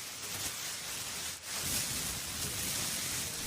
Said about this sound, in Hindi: मूवीज में जो आपने बारिश गिरने की आवाज सुनी हुई होती है उसे देखो कुछ ऐसे एक प्लास्टिक की थैली को मरोड़ कर बनाई जाती है